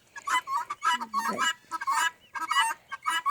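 Hens cluck in a backyard flock kept with a rooster, producing repeated loud, close clucks and short squawks in an uneven rhythm without any talking.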